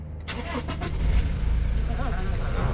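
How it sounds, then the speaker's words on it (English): Diesel engine of a 2017 Toyota Land Cruiser Prado GXL 2.8 turbo-diesel cranking and catching, then settling into a steady low rumbling idle heard from inside the cabin, loud and continuous after a brief start. "So just hop in the car and just pop the car on."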